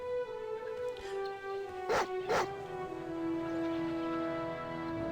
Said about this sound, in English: A dog pants behind the bars of the flimsy cage.